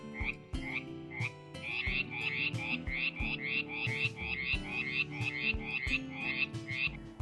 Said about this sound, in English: The frogs have been especially loud recently.